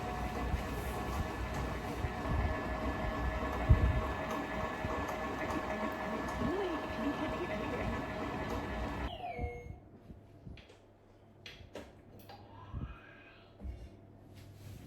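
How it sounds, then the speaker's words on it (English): An electric mixer whisks gluten-free genoise sponge batter with a steady whirring drone for about nine seconds, then stops, leaving quieter scattered clinks and knocks. "we're going to let this whisk until it cools down"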